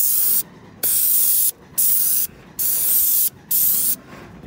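Loud bursts of hissing spray from a fairly new airless paint sprayer tip start and stop repeatedly, each lasting under a second, separated by short silent gaps, close and sharp.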